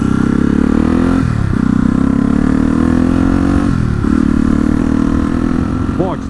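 Motorcycle engine running at speed in fourth gear around 60 mph, a loud steady droning roar with two brief dips in pitch like throttle changes, mixed with wind rush throughout.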